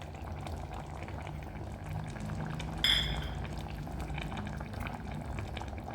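Dum biryani masala bubbles gently in a pot with a soft, continuous low simmer, plus a brief brighter clink of a utensil partway through.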